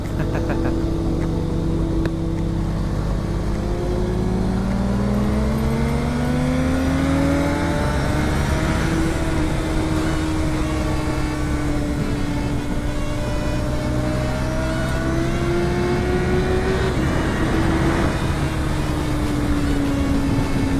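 A motorcycle engine drones steadily throughout, its pitch climbing and falling as the rider shifts through the revs, with no voices.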